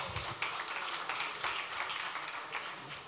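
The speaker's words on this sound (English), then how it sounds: "Applause." Audience applause at a startup competition, steady dense clapping filling the room throughout, with faint voices mixed in.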